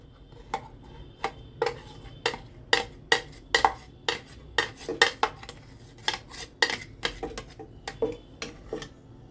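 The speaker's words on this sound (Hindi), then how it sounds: "हम इसमें सारा इसका पल्प जो है हम इसमें डाल देंगे" Green apple pulp tipped into a cooking pot, with a spoon knocking and scraping against the pot in a steady series of sharp, close clinks and no voices.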